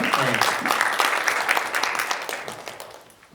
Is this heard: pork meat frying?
no